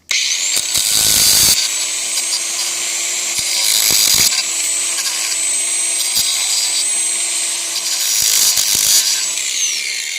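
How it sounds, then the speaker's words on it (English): An angle grinder fitted with a cutting wheel runs loud and close in long whining bursts, cutting off pieces of a pet-proof screen door frame, with brief pauses and restarts between cuts. "all you have to do is take a grinder. I've got a cutting wheel on here at the moment"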